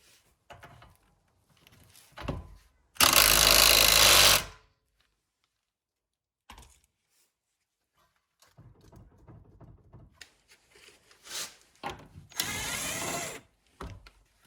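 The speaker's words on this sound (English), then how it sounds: "I should be able to zap it on with the impact, and then that'll be good and tight" Pneumatic impact wrench tightening a ball joint on a Honda CRX suspension: a loud, steady buzzing burst of about a second and a half, then a second long burst near the end, with shorter mechanical clatter and handling noises between them.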